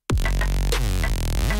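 A synthesizer trap patch for an electronic drop rings out loud and alone, a sharp attack followed by a rich buzzing tone with deep sub bass and rhythmic stabs bending in pitch over about a second and a half.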